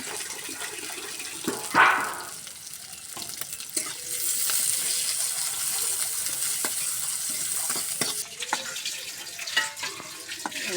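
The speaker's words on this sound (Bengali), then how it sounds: "লাল লাল করে পেঁয়াজটা ভাজা হয়ে গেছে" Onion, garlic and green chilies fry in hot oil with a steady sizzle, broken by a few clatters of stirring and a brief splash near the start.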